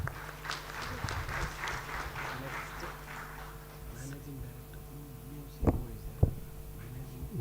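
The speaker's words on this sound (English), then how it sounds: "With big round of applause." Modest audience applause at a regional workshop on biomass co-firing in thermal power plants; scattered clapping for a couple of seconds fades under a room hum, followed by a couple of sharp knocks and a voice.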